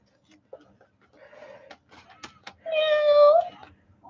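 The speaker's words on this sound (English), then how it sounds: "Oh, it says meow." A battery-operated toy cat gives a single bright, electronic meow lasting under a second, loud and close, after some soft handling clicks and rustles.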